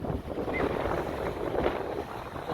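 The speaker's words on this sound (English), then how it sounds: "Got some serious little wave action going on out here." Small waves washing on Golden Gardens beach in Seattle, a continuous rushing wash mixed with cold gusting wind buffeting the microphone.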